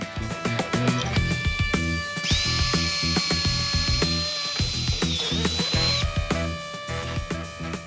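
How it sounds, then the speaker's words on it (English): A power drill bores a hole in a 70 mm wide timber piece, its high steady whine running for about four seconds at close range, with workshop clatter before and after. "Now I found the center, we can drill the hole."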